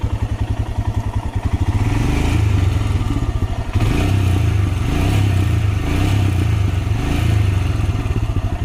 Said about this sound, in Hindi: तो अभी मैं एक बार आपको स्टार्ट करके दिखा देता हूँ। तो ये है इसका साउंड, एक बार इसको रेव भी करा देते हैं हल्का सा।